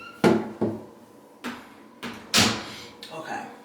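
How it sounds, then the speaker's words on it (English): Bathroom door handled and shut indoors, several sharp knocks and thuds with a couple of louder bangs spaced over a few seconds, close by. "Hold on, close the door."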